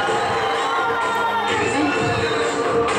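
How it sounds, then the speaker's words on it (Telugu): Students at a college event crowd-cheer and shout loudly in a hall, a dense, continuous roar of voices with bright whoops throughout, close and sustained. "please give a big round of applause"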